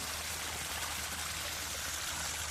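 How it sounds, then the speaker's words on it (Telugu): Hot spring water welling up naturally from the ground, giving a steady, close rushing and trickling wash that runs unbroken with no voices. "ఇది సొంతంగా భూమి నుంచి పైకి వస్తున్నాయి అనమాట ఇంకో విశేషం ఏంటంటే ఇవి వేడి నీటి బుగ్గలు"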